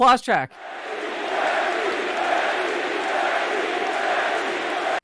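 A brief voice at the start gives way to a large crowd chanting in unison, a loud, sustained roar of many voices.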